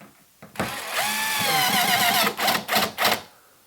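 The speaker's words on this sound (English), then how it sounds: "I simply sink a screw in where every stud mark shows up on my tape measure" A power drill drives screws through a board into wall studs while mounting the rail for a sliding barn door. The motor whines and ramps in pitch for about two seconds, then gives several short trigger bursts, close and fairly loud.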